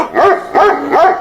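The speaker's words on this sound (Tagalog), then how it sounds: "tumatahol yung aso dahil andun ako sa labas" A dog barking three times at someone outside, loud and close, evenly spaced barks with short gaps between them.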